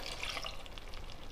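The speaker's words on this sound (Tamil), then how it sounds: "நான் மிக்ஸி ஜாரை கழுவி 1 டம்ளர் அளவு தண்ணி சேர்த்துக்கிறேங்க." A steady, loud sizzle and hiss as a tumbler of water hits a hot pan of goat liver gravy, bubbling continuously with no voices.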